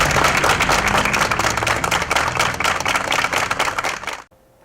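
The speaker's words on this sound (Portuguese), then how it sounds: "Em homenagem, amigos da profissão realizaram uma salva de palmas em frente ao local onde" Colleagues paying tribute with a round of applause outside the victim's former workplace in Petrópolis; dense, loud clapping fills the scene steadily, then cuts off abruptly near the end.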